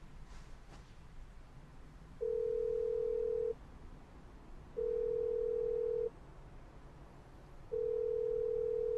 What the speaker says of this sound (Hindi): फोन नहीं उठाया, फिर से करती हूँ।